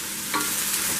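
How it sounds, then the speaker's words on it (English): Vegetables being stirred in oil in a pan give a brief close sizzle, with a scraping stir swelling partway through. "stir this up because I don't want the vegetables to burn"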